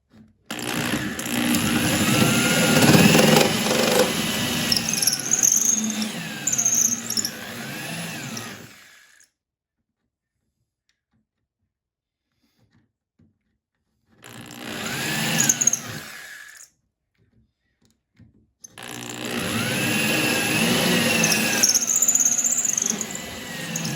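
A drill bores out spot welds during rust repair on a 1964 VW Bug convertible, loud whining bursts with squealing bit noise, stopping twice for silent pauses before starting again.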